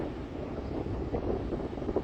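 Wind gusts over the sea beach at Tajpur near Digha, buffeting the microphone with a steady low rumble while surf murmurs faintly in the distance.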